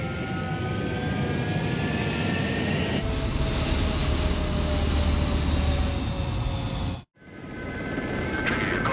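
Jet fighter roaring on the runway during takeoff in Ace Combat 7, a loud steady engine rush with rising whine tones, cutting out abruptly near the end before resuming.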